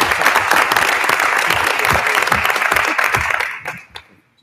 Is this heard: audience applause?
yes